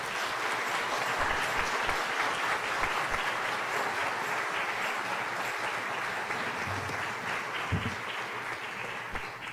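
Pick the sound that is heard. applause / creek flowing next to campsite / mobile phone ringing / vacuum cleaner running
applause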